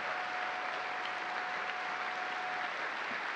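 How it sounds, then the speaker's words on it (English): Steady, even applause from an audience honoring the astronauts named as the first to fly commercial spaceships, sounding fairly soft and distant and sustained throughout with no voices over it. "Let's give them another round of applause."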